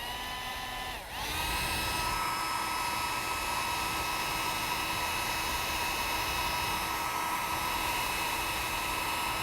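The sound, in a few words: small hair blower drying a wood carving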